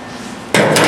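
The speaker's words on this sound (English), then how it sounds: "Maybe doing a little hammer and dolly work here just lightly to kind of get this to stay up where it needs to be." A single sharp metallic strike of a hammer against a dolly on a Camaro quarter panel during body repair, a close, loud clang after a brief quiet moment.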